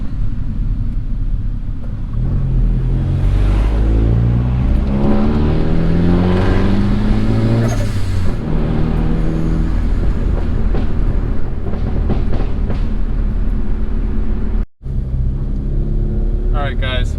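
Turbocharged Honda Accord pulling hard through first into second gear, a loud sustained engine roar with rising pitch sweeps and a brief dropout near the end during the shift.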